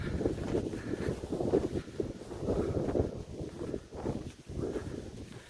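Steady gusty cold wind buffeting the microphone outdoors in snowy country, a continuous low rumble rising and falling with no voices.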